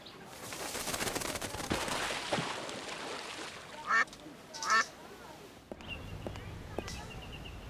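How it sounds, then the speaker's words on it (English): Ducks quacking in the point-and-click adventure game Secret Files 2: Puritas Cordis, two short loud bursts of quacks rising over a busy background of ambient noise and talk. "To feed the ducks?"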